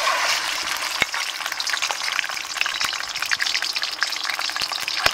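Goat brain frying in hot cooking oil makes a steady dense sizzle, close and loud, with sharp pops and spatters cracking through it at irregular intervals.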